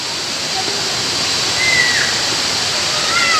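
Hinulugang Taktak waterfall in Antipolo, Philippines, a steady loud hiss of falling water filling the whole clip, with faint brief voices over the roar.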